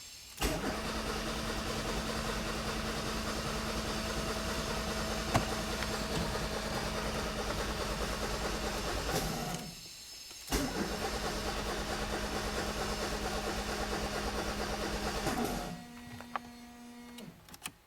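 A car fitted with an aftermarket cold-start system cranks its engine in two long, steady bursts separated by a short pause, the whirring start motor loud and close with a brief tail after each attempt.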